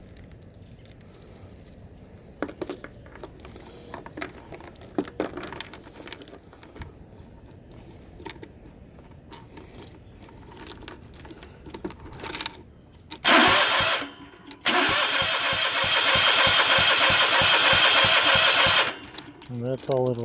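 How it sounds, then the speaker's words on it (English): Keys jangle as a faulty engine cranks, pops and catches, then runs loud and steady for several seconds before cutting off, close by, with someone talking earlier. "You can hear it kind of pop when"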